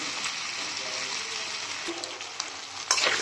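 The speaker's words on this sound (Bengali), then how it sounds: "লবণ দিয়ে দিয়েছি, এখন ভেজে নিচ্ছি" Salted fish and potato curry frying in a pan with a steady, broadband sizzle throughout, a few light stirring scrapes, and a louder crackle near the end.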